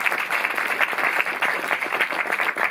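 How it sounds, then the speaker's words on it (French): An audience at a film premiere screening in a Paris cinema breaks into dense, sustained applause, many hands clapping close and loud with no voices over it. "Oui, applaudissez-le, c'est très beau"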